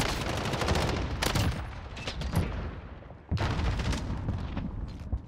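Rapid automatic assault rifle gunfire in the video game Modern Warfare, dense repeated shots in bursts with a short pause before firing resumes, loud and close.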